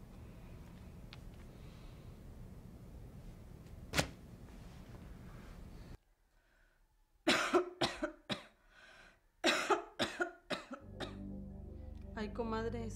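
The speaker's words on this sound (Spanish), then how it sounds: "esa tosecita ya no me está gustando nada." A single sharp cough stands out over a low background hum, followed by silence and then a burst of several rough coughs and throat sounds.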